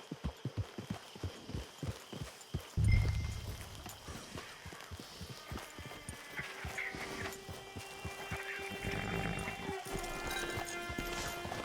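Horse hooves clip-clop in a steady rhythm in Red Dead Redemption 2 Online, pausing briefly after a thump, then resuming under soft ambient game music.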